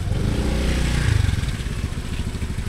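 A small motorcycle engine idles and revs unevenly, a low chugging putter close by, running steadily throughout.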